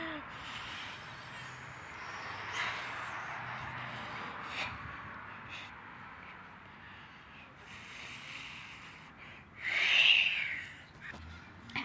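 A pigeon in the video game Creeper Chase gives a short, faint call near the end, over quiet background game sound.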